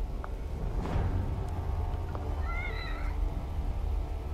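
A cat meows once in the horror game The Evil Within. The cry is clear and mid-loud, rising and falling over a dark, rumbling ambient background.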